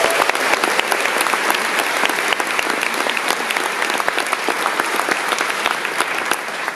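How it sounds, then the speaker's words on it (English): Steady, dense audience applause fills a festival presentation hall at CAAMFest, sustained and even throughout with many hands clapping at once and no voices on top. "so please, let's give them a round of applause."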